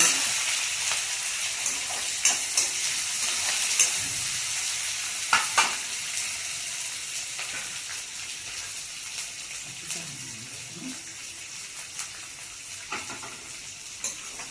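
Onions and green chilies fry in a pan for rava upma, a continuous bright sizzle with scattered stirring clicks and scrapes, close and steady throughout.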